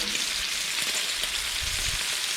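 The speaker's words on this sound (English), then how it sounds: "This bacon will not take long to cook, that's for sure." Bacon strips frying on a Blackstone flat-top griddle, a steady close crackling sizzle with dense spitting pops running throughout, no voices.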